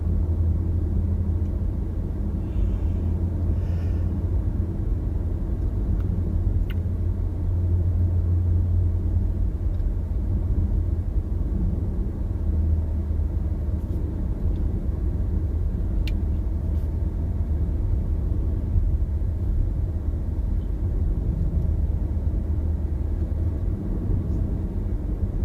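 A car rolls steadily through a neighborhood near a school, with a continuous low road rumble and engine drone heard from inside the cabin, even and unbroken, with no talking.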